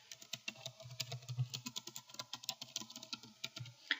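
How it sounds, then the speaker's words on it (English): Rapid, uneven keystrokes clatter on a computer keyboard while a heading is typed, close and fairly crisp, with a quick burst of taps toward the end. "I will just start typing my new heading style"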